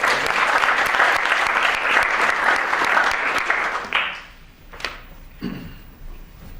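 Audience at a university architecture lecture-series award ceremony gives a round of applause, dense clapping for about four seconds that then fades into scattered claps and a few thumps.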